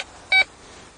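A metal detector gives a single short electronic beep, bright and clean, lasting about a tenth of a second against low background noise.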